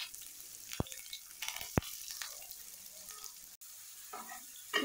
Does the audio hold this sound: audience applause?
no